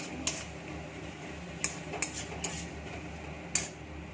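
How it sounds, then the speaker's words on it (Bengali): Sharp metallic scrapes of a spoon against a wok as spices are sautéed for chicken curry, five or six spaced strokes over a low steady hum. "দিয়ে এবার একটু কষিয়ে নেবো মশলাটা"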